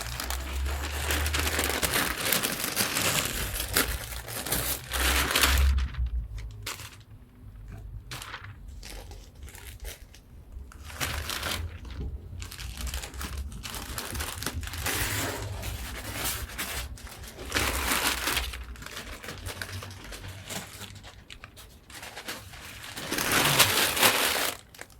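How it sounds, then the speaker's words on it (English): Old masking paper and plastic wrappers pulled and crumpled off a Peugeot 205 CTi after stone chip spraying of the sills, with loud close crinkling, tearing and scrunching in repeated bursts and short quieter gaps. "it's time to rip off the old wrappers"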